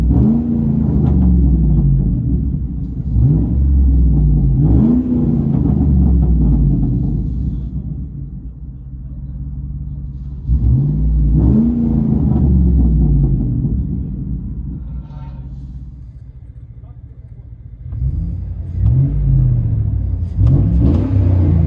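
Chevy Silverado with a 4.8L V8 on true dual straight pipes with an X pipe and 4-inch tips, heard from inside the cab: a deep rumbling idle broken by several loud revs that rise and fall, no talking.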